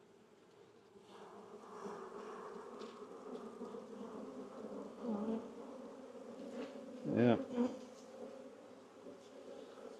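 Honeybees buzzing steadily around an open hive during an inspection in Texas, a dense droning hum close by that swells at moments, with a brief spoken word and some handling noise.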